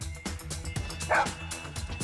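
A Labrador sniffer dog at a border checkpoint barks in quick, rhythmic yaps, about eight sharp barks in a row, close and fairly loud over background noise.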